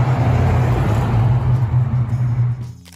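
A 1971 Plymouth Superbird muscle car with a 440 engine rumbles loudly and steadily up close, then the sound fades toward the end.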